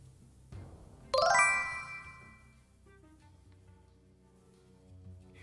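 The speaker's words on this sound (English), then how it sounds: "I heard a second notification." A bright notification chime from the Marvel Snap card game rings once, loud and clear, then decays slowly over a quiet background with faint game tones.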